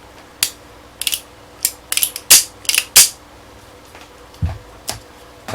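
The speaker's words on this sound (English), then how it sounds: "That will allow the bushing to go in and lock in." A bushing is pushed in past a transverse pin and locks into place, giving a series of sharp mechanical clicks and ratcheting snaps in quick, uneven succession, close and fairly loud, with no talking.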